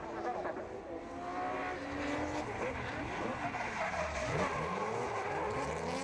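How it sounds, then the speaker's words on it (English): The engine of Jocelyn Janin's drift car makes an unusual noise at a French Drift Championship round. It roars loudly and steadily with shifting revs and tire squeal, and commentary talk sits under it. "We can hear the unusual noise that Jocelyn Janin's engine makes"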